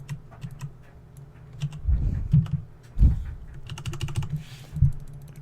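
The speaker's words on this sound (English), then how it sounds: "And just click a bunch of times." Repeated clicking from a computer mouse during digital logo editing, sharp close clicks coming in quick bursts and irregular clusters, with soft thumps underneath and no talking.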